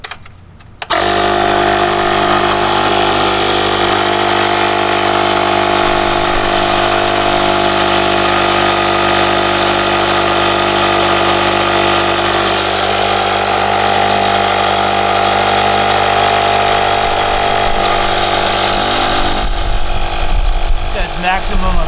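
An Oasser P3 portable dual-purpose compressor inflates a leaking, dry-rotted car tire. Its loud, steady motor drone kicks in after a second, runs evenly and close by, then cuts off near the end.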